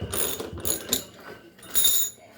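A ratchet wrench clicking as it backs a bolt out of the damper on a Samsung front-load washer, short bursts of rapid close clicks separated by brief pauses.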